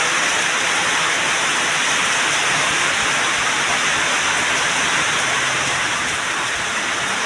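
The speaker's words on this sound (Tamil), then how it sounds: "பயங்கரமாக பீஸு மழை தெரியுதா? இப்போ பாருங்கள், மழை தெரியுங்களா?" Heavy rain pours steadily on an open road during a bicycle ride, a dense, even hiss that fills the whole clip without letup, loud and close, with no talking heard.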